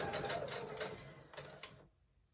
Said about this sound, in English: So now that I have my one elastic side, I'm going to sew down this length.